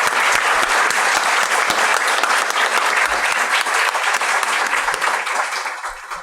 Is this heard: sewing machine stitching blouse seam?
no